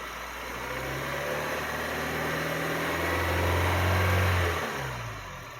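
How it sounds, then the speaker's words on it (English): A 2007 Honda Fit Sport engine revs steadily upward and falls back, with a low-pitched rattle running beneath the rev, heard close and loud with no talking. "There's like a lower register rattle that sounds like it's not part of the rev."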